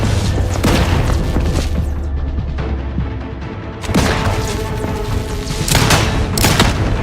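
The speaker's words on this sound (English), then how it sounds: "Grenade! Away!" Grenade blasts in the video game Outer Worlds 2, with heavy booming detonations over constant loud gunfire and combat noise, one big burst near the start and another around the middle.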